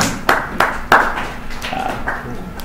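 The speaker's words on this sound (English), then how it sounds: "So give yourselves a round of applause." A few sharp, separate claps ring out close by during a live virtual-reality neuroanatomy session, four or five distinct hand strikes spaced irregularly rather than a full crowd's applause.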